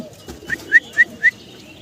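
Pigeons at a pigeon farm give four short, bright calls about a quarter second apart, close by and fairly clear over a quiet background.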